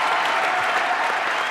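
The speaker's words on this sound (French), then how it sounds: "Applaudissements pour Marina Vladi, mesdames, messieurs, s'il vous plaît." Brief burst of full, steady applause from a French TV studio audience greeting actress Marina Vlady, close and loud.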